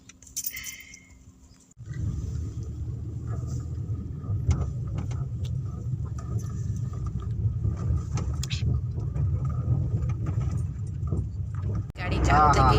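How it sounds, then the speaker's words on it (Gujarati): A car pulling onto the road after its door shuts, a faint clink first, then a steady close engine and road rumble inside the cabin, with people talking over it. "ગાડી ચાલુ થઈ ગઈ છે અને રોડ પર પડી છે અમારી ગાડી"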